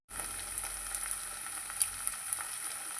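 Soft, steady sizzle of sardine curry ingredients, including brinjal, being sautéed in a pan, with faint scrapes and light stirring clicks over the frying.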